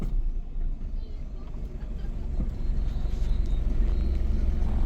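A car reversing slowly during a driving lesson, a steady low engine rumble that grows slightly louder toward the end, close and continuous with no speech.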